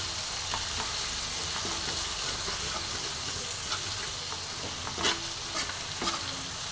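Cabbage and chhana kofta masala with spices being stir-fried in a pan: a steady close sizzle with scraping stir strokes and a few louder clinks near the end, with no voices.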